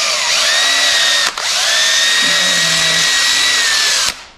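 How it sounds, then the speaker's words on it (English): Power drill spinning a deburring bit inside the end of a 3/16 steel brake line on a 1963 Chevy K10 4x4, a loud steady high whine in two long bursts with a brief stop between them. "I just use this on the drill instead of doing it with the tool that comes with this to go in and dig the burrs out."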